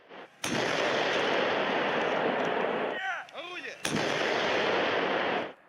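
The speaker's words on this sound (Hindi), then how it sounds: "तोपों से निकले गोलों की आवाज ने सन्नाटे में उथल पुथल मचा दी।" Heavy artillery cannons fire in a sustained, loud barrage during Russian military drills with Belarus, with booming blasts rolling together and a brief lull before the firing resumes.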